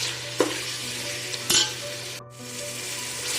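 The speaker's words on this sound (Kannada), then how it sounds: "ಪುದೀನನು ಸೇರಿಸಾದ್ಮೇಲೆ 1-2 ನಿಮಿಷ ಫ್ರೈ ಮಾಡ್ಕೊಳ್ಳೋಣ." Tomato bath masala with fresh mint sizzling and frying in a pan, a steady hiss with a couple of sharp spoon scrapes and a brief quiet dip partway through.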